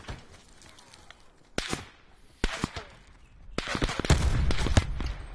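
Video game gunfire in Blackout: sharp cracking shots ring out in scattered bursts, some single and some clustered, moderately loud against a quiet backdrop.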